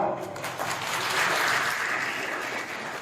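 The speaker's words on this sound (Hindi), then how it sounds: "ताली बजाओ" An audience at a Mandrela event welcoming the approval of a girls' college claps loudly and steadily, a dense, continuous roar of hands that swells slightly in the middle.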